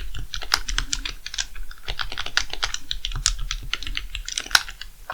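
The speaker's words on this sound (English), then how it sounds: "you can hear it's also very clicky" Clicky buttons of an SNES controller pad pressed in quick, irregular bursts, crisp close-up clacks with no talking.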